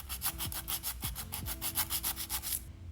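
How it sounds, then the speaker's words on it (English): Hand file rasping back and forth across dip-powder coated nails, a steady rhythmic scraping of about a dozen even strokes, close and clear with no talking, ending abruptly. "I'm then going to take a hand file and I'm going to go ahead and reshape the nails."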